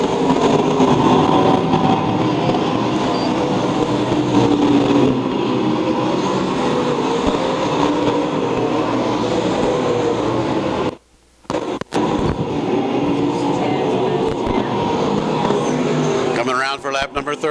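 Race cars roar around the Lakeside Speedway oval during an A main, engines droning continuously at a distance as the field comes down the front straightaway, with a brief dropout midway.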